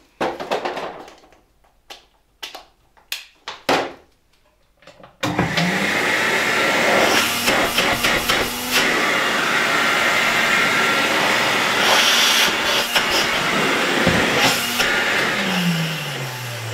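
An old Czajka 3 vacuum cleaner switches on after a few quiet clicks and handling noises, then runs with a loud, steady motor whine and broad airflow hiss that continues alone, with slight shifts in pitch.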